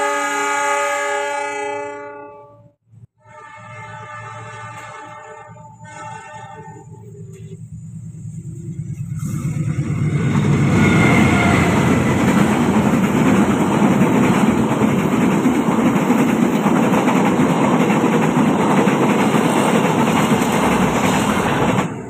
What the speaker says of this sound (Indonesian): dari sebelah sana ada kereta Argo Parahyangan